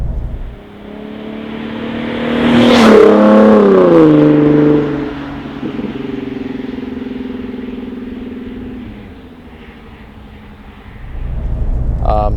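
A 3.7 V6 Ford Mustang with a Borla S-Type exhaust revs up sharply to a loud peak, then settles into a steady deep drone that fades to a lower idle before rising again near the end.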